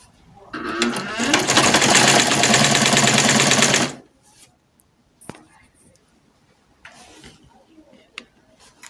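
A sewing machine runs in one steady, loud burst of stitching on a gown lining, lasting about three seconds, then stops. Faint handling clicks and rustles follow in near silence.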